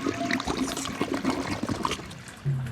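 A toilet flushes with a rushing swirl of water that gurgles and trickles, ending in a low refilling hiss.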